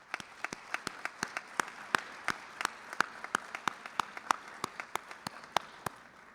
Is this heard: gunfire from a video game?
no